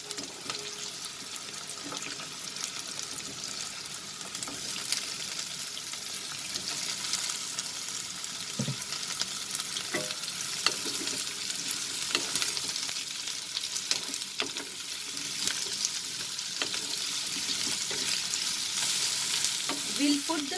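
Potatoes frying in a pan with onion and dried red chili for an ivy gourd and potato subzi, a steady dense sizzle with faint scraping stirs throughout, close and even, with no voices.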